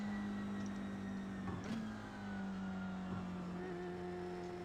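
A Formula 3 race car engine drones steadily on a slow parade lap at the Nurburgring in the iRacing sim, a faint sustained tone that dips and shifts pitch briefly midway, with no voices.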